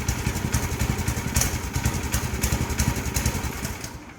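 A small Predator gas engine on a log splitter runs steadily with a rapid, chugging pulse, close and fairly loud, fading slightly at the end.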